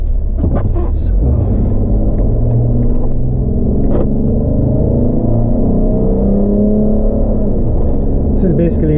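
Steady low rumble of a car interior cruising on a road trip from Long Island toward Lake George in the Adirondacks, continuous engine and road noise throughout, with a voice talking over it.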